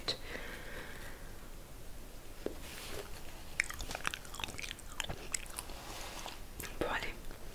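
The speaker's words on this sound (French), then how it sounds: "Bon allez, dernière bouchée après j'arrête." Close-miked chewing of spicy noodles in an ASMR tasting, with soft wet bites, squishes and slurpy mouth sounds over a steady hiss, plus a few faint whispery breaths.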